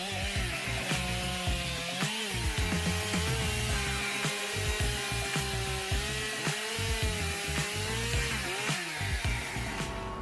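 Husqvarna 254 SG chainsaw cutting through large timber, a loud continuous engine whine with pitch dips as the chain bites into wood, steady and close without speech.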